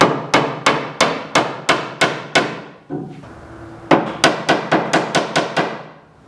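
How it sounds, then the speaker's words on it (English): Hammer tapping a wooden inwale into the end of a cedar strip canoe: a steady run of sharp, close knocks, a brief pause with a softer thud, then another quick series of taps. "I can go and tap on the other end while it's clamped here and just gently try and move this into the end here"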